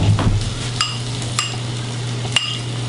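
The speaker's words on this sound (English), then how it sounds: "We give it a quick stir." A quick stir of pico de gallo (tomatoes, onions, serrano pepper, lime juice, cilantro) in a bowl, with a few soft utensil clinks against the bowl over a steady low kitchen hum.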